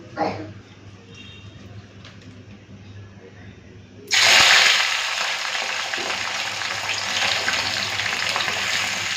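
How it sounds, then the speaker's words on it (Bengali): Kundri (ivy gourd) drops into hot oil in a pan and bursts into a loud, steady sizzle that continues to the end, after a quieter stretch of faint kitchen noise. "প্রথমে কুন্দরিটা ভেজে নিই"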